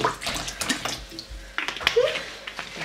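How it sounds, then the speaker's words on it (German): Water is poured into a mango juice punch for a Halloween bowl, a close splashing trickle with a few light clinks of glass or utensils. "werde ich das Ganze ein bisschen mit Wasser auffüllen"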